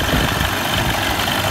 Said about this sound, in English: let it run for about 5 to 10 minutes at idle